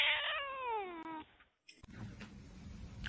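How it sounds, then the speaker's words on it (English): A cat lets out a long, falling meow that stretches into a wavering caterwaul, close and clear, followed by a sharp knock and some quiet shuffling noise. "Look at this bad cat right here."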